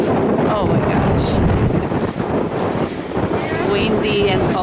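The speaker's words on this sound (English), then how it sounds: "Windy and cold." Strong Patagonian wind buffets the microphone in a steady, roaring rush, with a voice faintly audible beneath the gusts.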